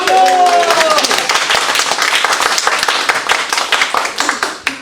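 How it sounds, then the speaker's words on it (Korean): Audience at a public library lecture clapping for a guest, loud brisk applause of many hands sustained throughout, gradually thinning toward the end, with a brief voice at the start. "박수 한번 주시죠"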